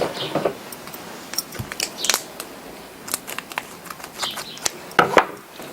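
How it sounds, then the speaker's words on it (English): Scissors snip through wire while fastening a wreath, a few short crisp cuts and clicks scattered among quiet rustling handling, close up with no talk. "back up the other side, and cut it off."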